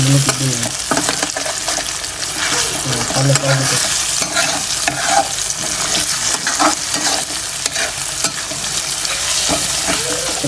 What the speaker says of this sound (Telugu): ఇప్పుడు మనం ఇట్లయితే బాగా కలిపెట్టేద్దాము